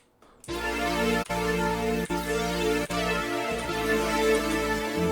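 A beat-chopped sample, pitched up 400 cents, plays in a sampler as a sustained ethereal harmonic tone, breaking off briefly at a few chop points, loud and steady with no voices.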